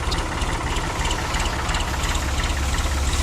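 Backhoe engine running steadily while mixing potting soil for up-potting tomato seedlings, a continuous loud low-frequency rumble with a rough, knocking idle throughout and no pauses.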